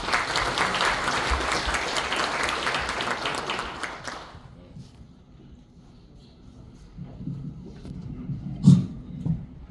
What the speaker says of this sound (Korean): 조합원 동지들의 뜨거운 박수로 모시겠습니다